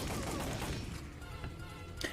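Rapid gunfire from the arcade light-gun shooter Time Crisis, a dense continuous fusillade of shots filling the whole stretch at steady loudness, with a sharper burst near the end.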